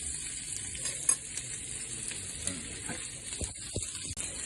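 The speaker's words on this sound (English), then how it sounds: "Let that simmer for a little bit." Food simmers and sizzles in a pan on the stove, a steady close hiss with faint crackles and an occasional stirring knock, no voices present.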